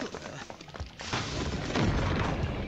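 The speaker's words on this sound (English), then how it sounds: "It was a bomb." A bomb explodes in an anime episode, a loud, sustained booming blast that swells after a sharper onset and rumbles on to the end without any talk.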